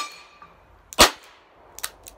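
A single sharp, loud crack of a .22LR Calibri round fired from a revolver lands alone near the start, followed by a few fainter clicks and metallic taps.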